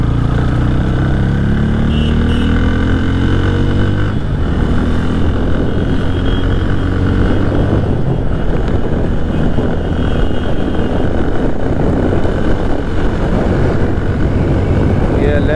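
A motorcycle engine runs loud and close in a continuous drone, pitch rising as it passes, with someone speaking over it.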